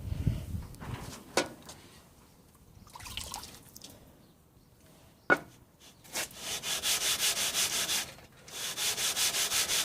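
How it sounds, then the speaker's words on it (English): A synthetic sharpening stone lapped on a lapping surface, starting with scattered scrapes and knocks, then settling into a run of steady, rhythmic gritty rubbing strokes, close and fairly loud. "when you're half off the lapping surface, what's happening?"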